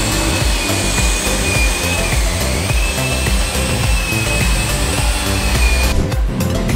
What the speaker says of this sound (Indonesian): Ini untuk di bagian spoiler juga kita lakukan pemolesan ya guys.